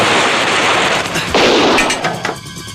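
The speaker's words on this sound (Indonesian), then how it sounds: "Kedengarannya seperti suara senjata api." Gunfire in a Hong Kong gambling film: a loud, dense burst of rapid shots that sounds like machine-gun fire and crackles on for nearly three seconds, with no talk over it.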